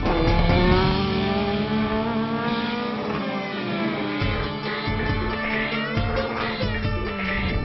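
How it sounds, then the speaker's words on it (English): A loud, continuous race car engine roars at high speed, its pitch rising and shifting as it revs, with no voices. "The roar of the engine so loud, so powerful."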